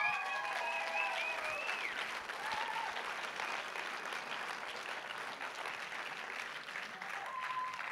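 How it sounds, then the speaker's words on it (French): An audience at an opening ceremony applauds a staff member, a steady, dense clapping crowd heard at moderate distance, with a few faint voices and whistle-like tones rising through it. "On peut l'applaudir."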